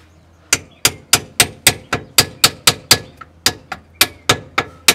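Sharp hammer blows land in a quick, even rhythm, about three per second, close and crisp against a quiet background, during a welded differential and axle swap on an S14 car.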